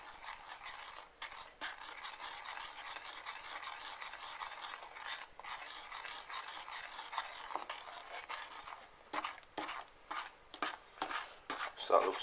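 A spatula scrapes around a pan of dissolving sugar for a chocolate fudge cake, giving a steady close rasping stir that breaks into sharper separate scrapes toward the end.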